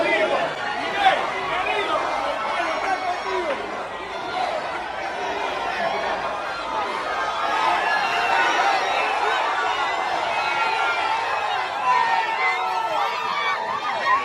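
A boisterous crowd keeps up steady chatter, laughter and excited voices as a politician runs through it at a midterm election event, a dense, continuous hubbub close around the listener.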